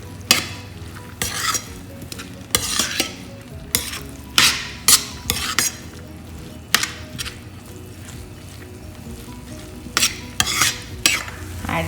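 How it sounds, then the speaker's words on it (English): Moong dal stirred into a pan for a spinach curry, with a low sizzle underneath and repeated scraping strokes of a utensil against the pan in an irregular rhythm, close up. "After adding moong dal, mix it well."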